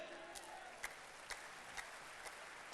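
Audience applause at an anniversary event, a continuous broadband clapping wash with a few sharper individual claps standing out at intervals, and no talking over it.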